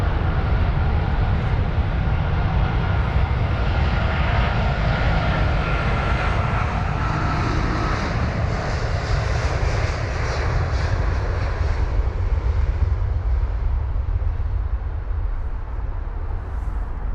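Jet aircraft engines at London Heathrow airport, a loud steady roar close by that holds for the whole stretch, broadband and unbroken with no voices.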